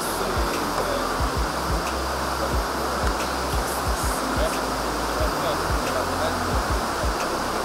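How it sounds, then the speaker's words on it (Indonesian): A fast-running river crossed on foot on the way to Nyare waterfall in West Sumatra fills the scene with a steady broadband rush of water, with scattered low thumps and splashes close by. "ternyata arus sungainya lumayan deras nih"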